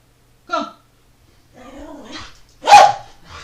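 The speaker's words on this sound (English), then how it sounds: "normally he barks whenever someone's, you know, going past the door" A pet dog named Hoopa inside a house being viewed while house hunting gives a short bark, then a longer growly vocalisation and another loud bark, close by and separated by quiet gaps.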